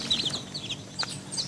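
Small chicks and their mother hen in a little coop, with several high, brief peeps scattered through the clip and soft low clucking beneath a faint background hiss.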